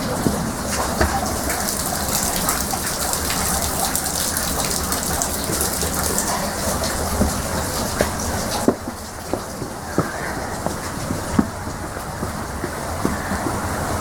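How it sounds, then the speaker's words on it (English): Water from a mill race rushes steadily toward a water wheel at a heritage mill, a continuous broadband gush that stays constant throughout, with a few brief knocks near the end. "where the water is channeled down to then go through the water wheel."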